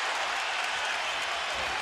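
A large arena crowd at a 2003 NBA Finals basketball game between the San Antonio Spurs and New Jersey Nets roars and applauds as a steady, wash-like din.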